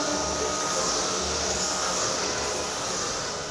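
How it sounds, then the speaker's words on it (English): A 1500-watt vacuum cleaner runs steadily and loudly on a farm, a continuous broadband whine and rush that holds even for the full few seconds with no talk over it. "Looks like it's got some suction,"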